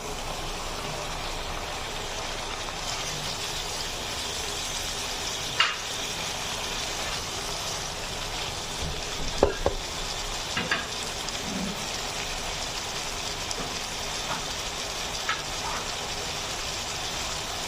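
Malabar spinach seeds frying with prawns in a pan, a steady soft sizzle throughout with a few sharp clicks and scrapes of stirring.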